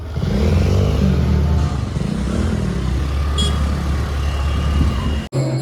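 A motor vehicle rides toward a temple: a loud, close engine drone with rattling and wind rush, steady throughout, then a sudden bump or cut near the end.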